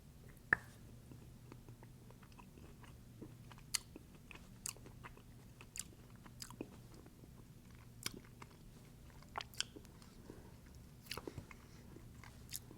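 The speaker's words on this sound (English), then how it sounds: "Let's go ahead and give it a bite and see what we are expecting here." Bites and chewing of a chocolate hazelnut Pocket Latte snack, soft crunches and moist mastication spread through the quiet, close and faint, with no talking.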